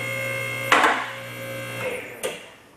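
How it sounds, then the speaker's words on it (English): A car lift rises under a steady motor hum while its first safety latch catches with a sharp clunk, followed by two more metallic knocks as the lift keeps climbing. The sounds are close and moderately loud. "what you heard there was the first safety latch to prevent the lift from coming down should a cylinder fail."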